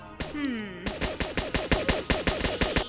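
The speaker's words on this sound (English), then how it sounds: "You're not even hurting me when you're shooting me." Rapid, evenly spaced gunfire from the Roblox game Outdig, a steady burst of about a dozen sharp shots following a short whooshing sweep, loud and close.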